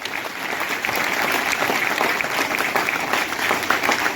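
Dense, continuous clapping from an audience at a distributor meeting, steady and fairly loud for the whole stretch without any talk over it.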